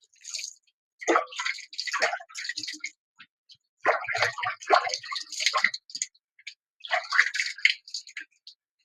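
Hands are rinsed under splashing water in a home kitchen, coming as irregular bursts of drips and splashes with short pauses, faint and nearby, without voices.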